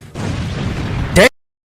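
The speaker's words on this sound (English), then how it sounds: "Driven explosion, Vegito" Explosion from the Dragon Ball Super anime during Ultra Vegito's battle with the gods: a roaring, sustained blast of about a second that ends in a sharp, bright burst before cutting to silence.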